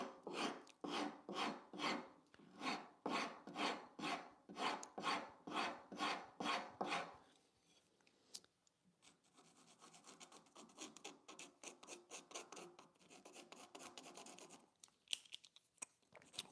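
Wood rasp shaping a wooden furniture leg: about fifteen loud, evenly timed rasping strokes close by, then quieter, irregular scraping and handling noises.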